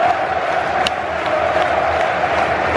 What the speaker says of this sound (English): There was another chant going on, which we did our best to sort of sing along to.